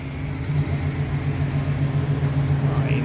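A 1955 Chevy's engine runs as the car is driven. It gives off a steady, low, close rumble that holds an even tone for a few seconds.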